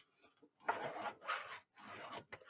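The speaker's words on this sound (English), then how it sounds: "Burnish." Bone folder burnishing paper for a 10 x 10 album, three firm rubbing strokes of about half a second each, close and fairly quiet, followed by a short final swipe.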